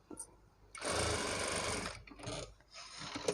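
A sewing machine stitches a border onto a neckline, running in a loud close burst of rapid whirring, then shorter bursts with pauses between them.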